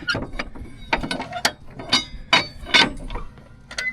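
Ratchet strap being cranked tight over a load of hay bales, a series of sharp mechanical clicks and clunks in uneven bursts, close and loud with no talking.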